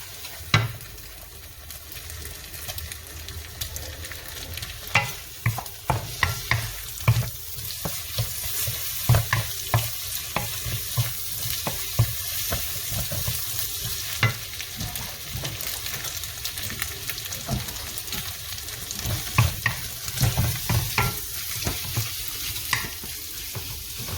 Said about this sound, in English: With the medium heat. Then I add my prawn.